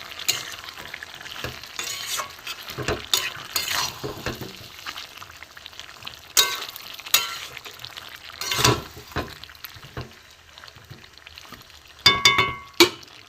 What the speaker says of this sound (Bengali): ঢাকনাটা খুলে দেখব একটু নেড়ে দেবো